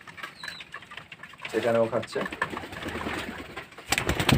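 Pigeons feeding on homemade grain feed coo and stir nearby, with a brief flutter of wings near the end, while someone speaks over them.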